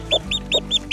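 A chicken clucks close by, with five quick, evenly spaced clucks in about a second. Faint background noise sits underneath and no one speaks.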